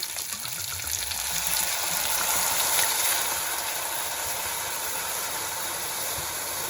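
Wine hisses and sizzles loudly in a hot pan, a steady crackling fry that swells briefly then holds constant.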